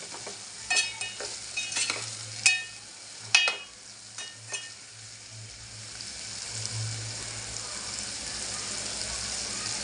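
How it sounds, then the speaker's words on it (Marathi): Spicy dal with drumstick pods sizzles in a pan while a spoon stirs it in several sharp clinks and scrapes early on, then settles into a steady, close frying hiss. "तिखट डाळ खूप छान लागते शेवग्या शेंगा टाकले मी बघू शकता असे व्यवस्थित मी करतो आहेत"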